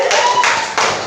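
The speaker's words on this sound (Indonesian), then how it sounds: "Dah, tepuk tangan dulu" A classroom of students claps for a quiz winner, with three loud group claps landing in quick, fairly even succession at close range.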